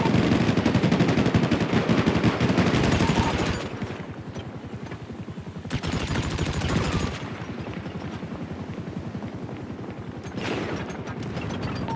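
Heavy, sustained automatic gunfire in a police roleplay video game, long loud bursts that stop briefly and start again, near and dense, with no talk over it.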